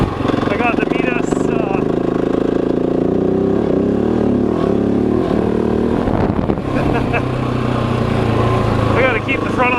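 A Husqvarna 701 Enduro single-cylinder motorcycle is ridden off road on a new Midas MC23 front tire being scrubbed in. Its engine gives a loud, close, steady drone with shifts in revs throughout, and the rider talks over it.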